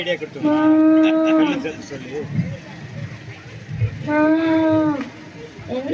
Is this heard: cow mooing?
yes